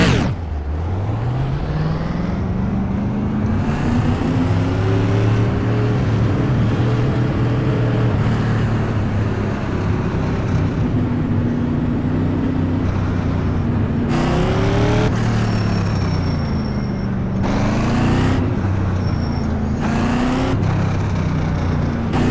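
A modified race car engine roars loudly and continuously during a 40-lap race, its pitch climbing and dropping through shifts and throttle changes, with other cars' engines blending in.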